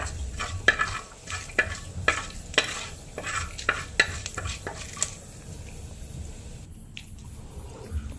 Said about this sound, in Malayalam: ഉലുവയും കറിവേപ്പിലയും കൂടി നന്നായി വഴറ്റാം.